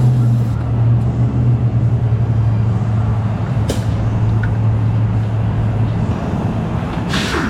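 Brake cleaner sprays in short hisses onto a running Chevy Sonic engine, which hums steadily and roughly underneath, close by.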